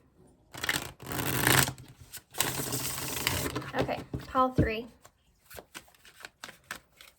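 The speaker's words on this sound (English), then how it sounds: "One more shuffle." Tarot cards are shuffled in several quick riffling bursts, close up, followed by a short spoken remark and some light handling sounds.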